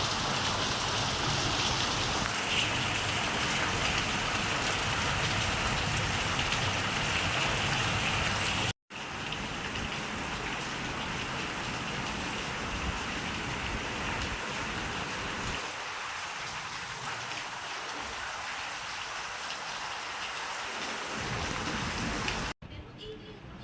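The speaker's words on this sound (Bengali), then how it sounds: "বিশাল বৃষ্টি হয়ে গেছে" Heavy rain pours down in a village, a dense, steady wash of falling water that runs continuously, broken by one brief gap near the middle and easing slightly toward the end.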